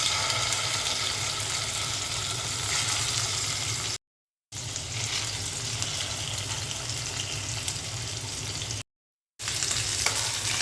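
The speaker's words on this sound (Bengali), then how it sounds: "তরকারি রান্নার জন্য ইলিশ মাছটা ভেজে নিচ্ছি।" Hilsa fish frying in a pan of hot oil for a curry, a steady dense sizzle running continuously at close range, broken by two brief silent gaps.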